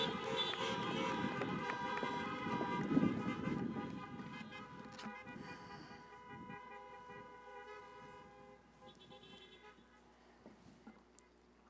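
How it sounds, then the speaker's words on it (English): Many car horns honk together in a sustained, layered chorus of toots at an outdoor drive-in college commencement, loud at first and gradually fading, with engines and crowd noise underneath. "please join me in honking your horns and flashing your headlights and welcoming Dr. Katie Leonard"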